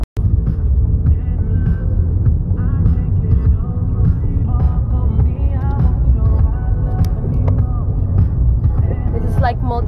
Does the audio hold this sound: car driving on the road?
yes